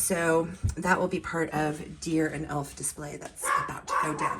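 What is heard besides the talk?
dog barking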